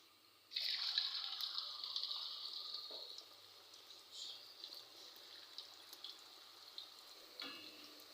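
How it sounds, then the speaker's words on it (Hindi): Raw hand-cut potato fries slide into hot oil, setting off a loud sudden hiss that settles into a steady bubbling sizzle, fading a little over the next seconds with a few soft pops and clinks. "चलें, अब डालते हैं हम अपने फ्राइज़"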